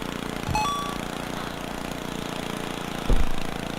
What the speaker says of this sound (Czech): A na to nám bude dobrý tady ten pan sekačka.